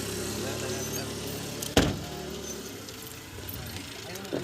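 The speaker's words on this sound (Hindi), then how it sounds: "दरवाजा लगा" A car door is pulled shut with a single sharp thud partway through, set against a steady low hum of the vehicle and faint indistinct voices.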